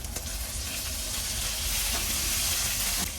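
Chopped curry leaves hit hot oil and set off a loud, hissing sizzle that swells slightly and stays steady and close, with a few sharp crackles and no speech.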